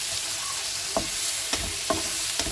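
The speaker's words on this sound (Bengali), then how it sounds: "এবার আমি পেঁয়াজটা আর আলুটা ভেজে নেব।" Potato pieces and onion fry in olive oil, a steady sizzle broken by several sharp scrapes of stirring at regular intervals, with no talking.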